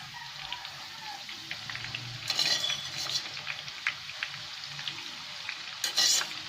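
French fries fry in hot oil with a soft, steady sizzle close by, broken by a few brighter bursts of bubbling and faint clinks of a utensil stirring.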